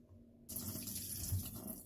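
A kitchen faucet with low water pressure turns on partway through, giving a steady hiss of running water into the sink that continues evenly to the end with no talk.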